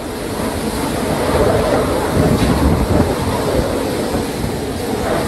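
Strong storm wind roars across city streets in China, a loud, dense, unbroken rush that swells slightly in the middle and never lets up.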